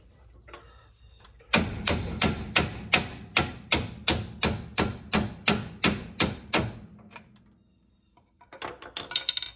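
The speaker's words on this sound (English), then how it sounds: "Hopefully now we can drive this piece out." A hammer strikes steadily at a front suspension part of a 1957 Studebaker Silver Hawk to drive it out. About fourteen loud, evenly spaced metallic blows ring out up close, then stop, followed by a few lighter clanks.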